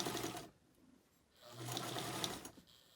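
A sewing machine stitches a denim tile quilt block in two bursts with a short quiet gap between, its needle whirring and clicking close by, with no one talking.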